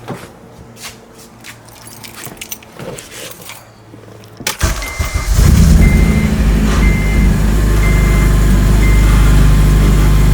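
After a few quiet seconds of small clicks, an Acura TSX engine cranks and catches with a slightly odd start, then settles into a loud, steady idle rumble.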